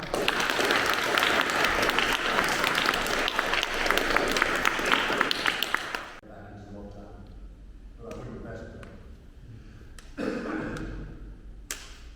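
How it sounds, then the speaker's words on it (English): Loud, dense applause from an audience for about six seconds, then it stops and a voice begins talking. "give a big round of applause for Jeremy Harmer."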